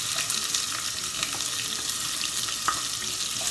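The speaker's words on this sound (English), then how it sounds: "Then add your onions." Onions fry with garlic in a pan for South Indian sambar, giving a steady, dense sizzle that stays close and even throughout, with faint scraping now and then and no voices.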